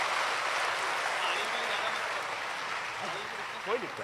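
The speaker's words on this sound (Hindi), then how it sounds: "एक बार जोरदार तालियां बजा दीजिए अपने अपने हिस्से की" A large gathered audience at a religious talk claps loudly in a sustained wash of applause, with a faint voice emerging near the end.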